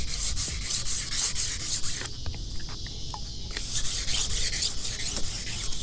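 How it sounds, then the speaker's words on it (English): Fine wet sandpaper rubs by hand over the gel coat of a 1992 bass boat in steady back-and-forth strokes, close and loud, with a short pause in the middle. "You want to get this sandpaper wet, and you just want to start sanding it."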